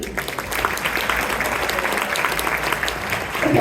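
Applause from an audience at a community organization's annual dinner, a steady dense patter of many hands clapping throughout, fairly close and even, with no talk over it.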